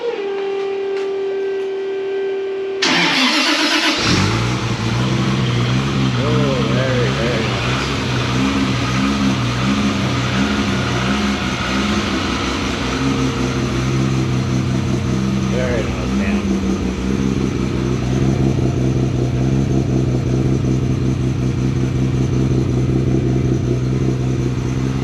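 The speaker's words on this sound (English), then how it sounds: "we'll fire this thing up and give you a sound" A car fitted with an Artec Performance 4-inch titanium exhaust cranks and fires up, then idles loudly and revs several times with a rising and falling engine roar, close by and continuous.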